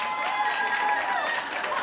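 A studio audience claps together in a steady, dense patter of applause that carries on throughout, with a faint voice mixed in beneath the clapping.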